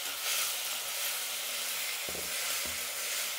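Tomatoes frying with onions in a pan give a steady, close hiss of sizzling, broken by a couple of brief knocks near the end.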